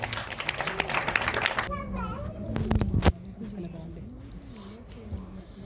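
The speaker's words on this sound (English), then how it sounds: "Please welcome them with your blessings and a big round of applause." Audience applause welcoming Kuchipudi dance performers at a women's awards event, steady dense clapping through the first stretch with children's voices and chatter mixed in, then fading into a murmuring room with a voice talking.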